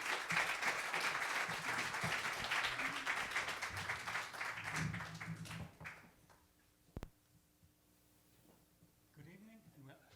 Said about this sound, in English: A big applause, thank you.